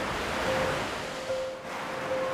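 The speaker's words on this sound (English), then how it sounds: "And the waves that they generate can rip pups from the rocks." Storm waves surging against the rocky shore of the Open Bay Islands, a continuous broad roar of surf with gusting wind, loud and unbroken.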